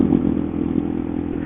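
Engine of a Honda CBR150R K45N motorcycle on the road, a steady, close, muffled hum with faint clattering and no clear revs.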